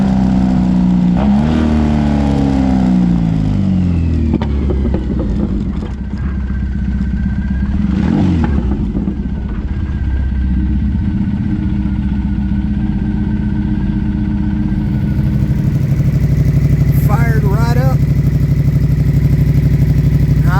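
A motorcycle engine with a lithium iron phosphate battery runs steadily and loudly up close, a constant mechanical drone with slight shifts in pitch and a few clattering knocks throughout, with no one talking.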